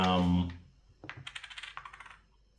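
Small game tokens clatter onto a board game location, a quick run of light clicks and taps after a voice fades out at the start.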